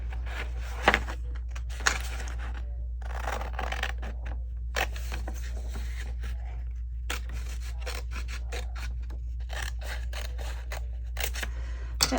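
Scissors snipping paper while decorating a peacock-themed envelope journal page, a run of short crisp cuts in irregular bursts with brief pauses between, close and fairly quiet, no talk.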